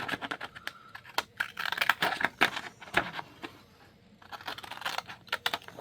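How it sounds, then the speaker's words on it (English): Decorative funky-edged scissors cut through card stock in bursts of short, crisp snips with brief pauses between them, close-up and moderately loud. "funky scissors."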